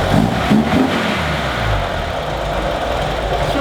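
A 1976 BMW 2002 engine idles steadily, close and loud, a smooth continuous rumble with no knocks or rattles, running alone without voices.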